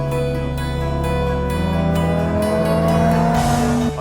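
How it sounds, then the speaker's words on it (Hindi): A Lamborghini Huracan sports car drives by under a cloudy sky, its engine a loud, steady droning roar that shifts pitch partway through and swells before cutting off, with no talking. "और ये है दोस्तों लैम्बोर्गिनी हुराकान। तो आ गई ये हुराकान"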